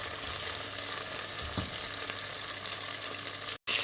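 Potatoes and onions sizzle steadily in a hot pan, a continuous close frying hiss with a brief stirring scrape partway through and a short cut near the end; no voices.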